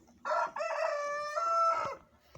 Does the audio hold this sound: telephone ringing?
no